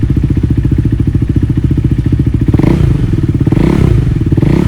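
A KTM Duke 390 single-cylinder motorcycle idles close by, its exhaust putting out a steady, rapid thumping pulse that grows slightly louder and rougher partway through, with no talking.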